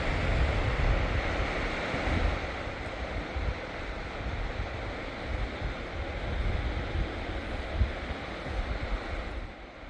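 The Klamath River running high above Jenny Creek, a broad steady rushing roar of water that fills the whole span, with gusts of wind buffeting the microphone and no voices.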